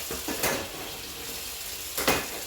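Kitchen utensils and a spoon rinsed under a running tap at a home kitchen sink, a steady close water hiss with two brief splashy bursts, no talking.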